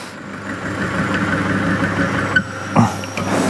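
An engine runs a bearing oil test machine with a steady mid-pitched idle hum, close and fairly loud, broken by a couple of short metallic knocks near the end.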